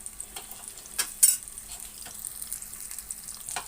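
Baby corn pieces frying in hot oil until browned, a soft steady sizzle with occasional sharper crackles and spits, close and fairly quiet, no talking.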